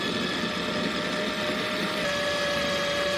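A food mixer runs steadily at full speed, blending fish and cream into a smooth mixture, a continuous even mechanical whir with a high tonal whine and no talk.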